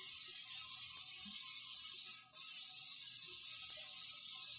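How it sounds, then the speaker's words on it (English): An airbrush spray-tan compressor runs with a steady, close broadband hiss throughout, briefly dipping for a moment mid-way before resuming the continuous spray. "And what you hear right now is the compressor kicking in."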